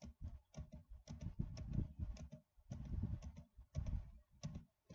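Computer keyboard keys pressed while configuring Debian 8, with Ctrl K used to delete lines: quiet, close, irregular clusters of clicky keystrokes with short pauses between bursts.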